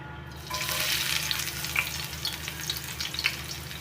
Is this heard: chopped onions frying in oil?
yes